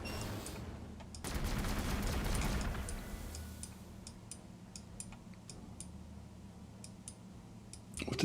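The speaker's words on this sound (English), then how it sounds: "Fire all weapons." Weapons fire from units in the turn-based strategy game Warhammer 40,000: Gladius, a dense burst of crackling shots and impacts early on, then scattered sharp ticking clicks over a low ambient hum.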